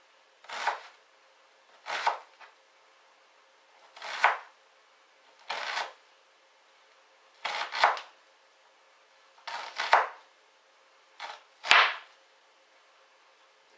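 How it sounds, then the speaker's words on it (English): Knife chopping an ingredient as thinly as possible for jerk chicken marinade, heard as eight separate crisp bursts of cutting, spaced roughly a second or more apart, close and fairly quiet with no talk. "So we're trying to keep it in one piece so we can try and chop it as thinly as possible"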